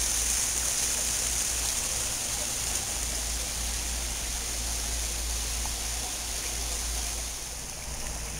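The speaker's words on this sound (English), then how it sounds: "Even a lovely water feature." A condo clubhouse water feature in North Scottsdale gives a steady, broadband rush of splashing water, continuous and fairly close, with no voices over it.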